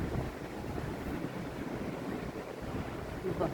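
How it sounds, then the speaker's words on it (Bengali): Strong wind gusting onto a balcony in Chattogram as curtains flap, a steady broad roaring rush filling the whole clip with no pauses. "কি পরিমাণে বাতাস, যে পর্দাগুলা কিভাবে উঠতেছে, খুব বাতাস আসতেছে বারান্দাতে"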